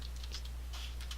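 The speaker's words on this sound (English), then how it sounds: "I'm not typing it right" Computer keyboard typing during a Minecraft server session, a quick burst of light, close key taps over a steady low electrical hum, with no talking.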